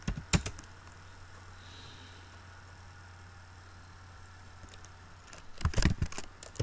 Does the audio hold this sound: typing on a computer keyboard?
yes